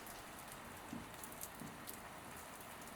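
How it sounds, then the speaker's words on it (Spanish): Wind-driven rain beating horizontally against thick windows at a lighthouse at the end of the world, a steady dense patter with a few sharper drop hits, faint and continuous with no voices. "Solo obtuve la respuesta de la lluvia, que debido al viento golpeaba horizontalmente las gruesas ventanas."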